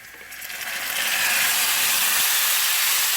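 Pasta cooking water is poured into a hot pan and meets the hot surface with a loud, rising sizzle that swells into a steady steamy hiss, close up and with no talking.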